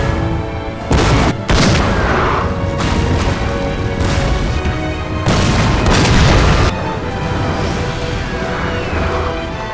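Artillery booms in a Total War battle recreation of the 1880 Battle of Kandahar, heavy repeated blasts over a dense, loud rumble of battle noise, several shots in close succession.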